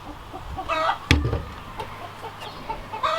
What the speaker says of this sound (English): Did you catch a loose chicken?